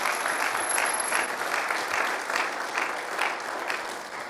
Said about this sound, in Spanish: Denle un aplauso, ¿qué le parece?